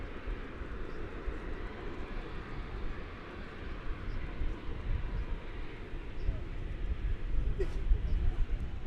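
An American Airlines jet takes off from Dallas Fort Worth Airport, a steady, broad engine roar that holds from a distance and swells slightly toward the end.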